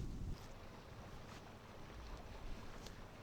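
Steady wind buffets the microphone at a lake bank during catfish fishing, a broad continuous rumble with gusts, stronger at the very start and again near the end, with no talking.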